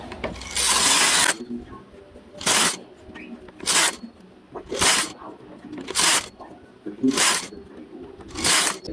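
A knitting machine carriage is pushed back and forth across the needle bed, knitting rows. It gives about seven separate loud rattling swishes spaced roughly a second apart, with quieter mechanical clatter between them.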